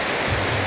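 Water rushes and pours down a waterfall in the Peak District, a steady, dense broadband roar that holds close and loud with no break and no voices.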